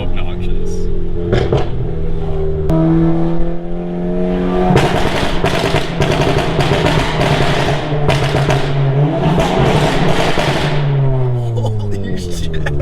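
A Stage 2 EQT-tuned VW Mk7 GTI revs hard and loud with rising and falling engine pitch, broken by bursts of rapid, rattling pops and bangs, while people talk excitedly over it.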